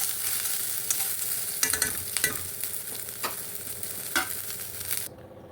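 Urad dal and chana dal fry in oil with a continuous close hiss, punctuated by several sharp crackles and spatula scrapes, before the sound cuts off near the end; no one speaks.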